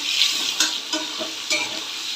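Prawns and potato pieces fry together in a pan with a steady, close hiss of hot oil, broken by a few soft stirring scrapes and no voices.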